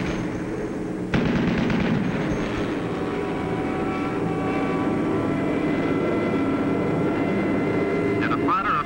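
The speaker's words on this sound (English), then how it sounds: "In desperation, through his own flak, the final Hun fighter makes a pass at the low squadron." WWII fighter aircraft engines drone steadily during air combat, a dense, continuous roar with rumbling bursts, heard under a narrator's voice.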